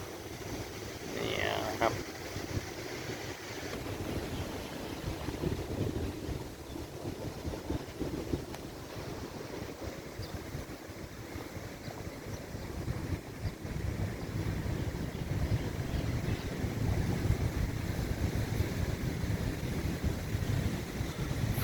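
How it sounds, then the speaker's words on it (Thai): Strong wind gusting over Bueng Kaen Nakhon lake during a storm, a steady roaring rush buffeting the microphone with a faint water wash beneath, continuous and close. "ลมก็พัด พัด แรงแค่ได้ครับ"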